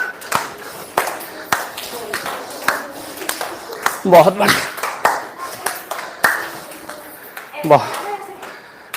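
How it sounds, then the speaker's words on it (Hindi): Members of a yoga class clap their hands in scattered bursts, sharp claps spaced irregularly while an instructor keeps talking over them. "जीवन थोड़ा नीचे चल रहा है तो ताली बजाओ, और ऊपर चल रहा है तो ताली बजाओ"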